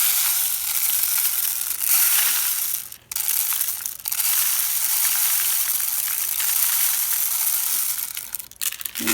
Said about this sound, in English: And I'm just going to carefully put some rice in here.